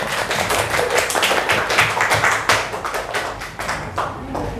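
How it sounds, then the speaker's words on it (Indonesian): A group applauds in a classroom, with dense rapid hand claps forming a lively burst that keeps going at a steady level, thinning slightly toward the end. "tepuk tangan untuk kalian"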